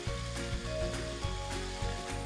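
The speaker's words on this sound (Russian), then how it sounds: "Обжариваем наше мясо." Steady sizzle of meat frying in a pan, a continuous hiss with faint scraping bumps every half second or so, close up and without talking.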